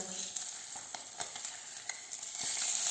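A sea bass fillet crackles and sizzles in a hot pan, with a steady hiss of oil carrying scattered pops and spits, fairly close and alone.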